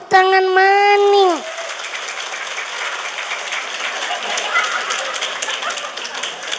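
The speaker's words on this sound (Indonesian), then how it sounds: "Tepuk tangan maning." Applause from a large crowd at a big Islamic religious gathering in a mosque, breaking out right after a short sustained voiced tone and continuing as a steady, dense crackle that fills the rest of the moment.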